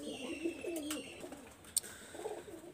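Pigeons kept for sale coo softly in low rolling calls, faint and steady, with a brief click partway through.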